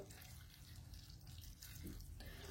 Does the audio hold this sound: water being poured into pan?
yes